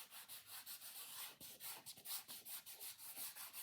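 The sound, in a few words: rubbing something with hands to spread it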